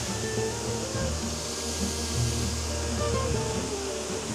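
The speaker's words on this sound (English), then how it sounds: "I've got this raging waterfall right in front of me." A raging waterfall on Maui roars as a dense, steady wash of falling water close by, loud and constant throughout with no pauses.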